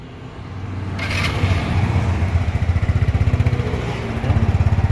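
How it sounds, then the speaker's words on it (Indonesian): A Jet S motor scooter engine idles close by, settling into a rapid, even putter with a steady pulsing rhythm and no talking. "Untuk suara mesinnya kita cek sound coba seperti apa"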